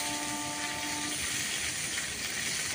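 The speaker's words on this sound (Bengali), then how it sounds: "লবণটা দিয়ে তারপরে ভালো করে ভেজে নেব" Purple cauliflower pieces fry with salt in hot oil in a kadai, making a close, continuous sizzling hiss that stays steady from start to finish.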